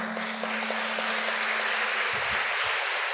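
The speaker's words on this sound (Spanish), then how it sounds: "Vamos a darle otro aplauso." An audience at a faith gathering claps in a loud, continuous, even roar, with a steady low tone running beneath and a brief low rumble near the end.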